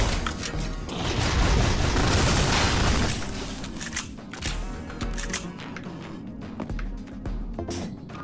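A weapon fires in the retro shooter game Ion Fury: a dense, loud barrage of booming shots for about three seconds, then scattered single blasts and impacts at a quicker-fading level.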